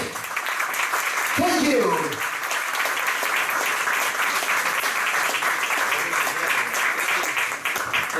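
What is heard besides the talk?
audience applause welcoming a conference speaker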